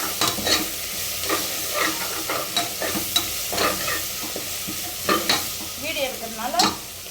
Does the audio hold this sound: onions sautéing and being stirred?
yes